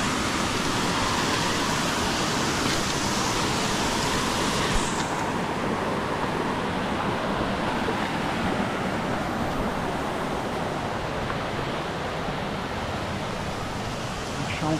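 Waterfall at Ponderosa on the Trilha do Índio, a constant broad roar of falling water, loud and unbroken for the whole stretch, with no clear voices over it.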